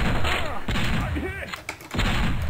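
Gunfire from the video game Strike Force Heroes crackles in rapid bursts throughout, loud and close, with a brief gap before firing resumes; a voice talks over parts of it.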